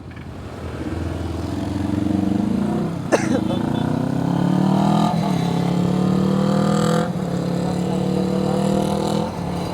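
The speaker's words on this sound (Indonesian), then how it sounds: "Knalpotnya kaleng." A motorcycle with a loud aftermarket tin exhaust rides through morning traffic, its engine droning and rising in pitch as it revs, fairly close and continuous for the whole stretch, with road and wind noise around it.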